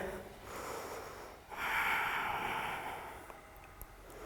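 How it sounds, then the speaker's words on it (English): Slow, steady breaths during a hatha yoga standing pose, a long airy exhale swelling in the middle, fairly close and soft with no talking. "Take 2 more deep breaths here."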